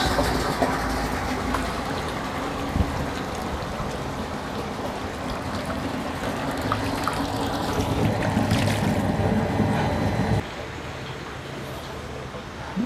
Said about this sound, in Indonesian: sekarang pelampung sudah terangkat dua-duanya sehingga pompa kembali menyala dan air mengalir deras